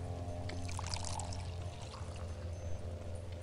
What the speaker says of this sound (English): I'm gonna fill up those bottles of water really quick.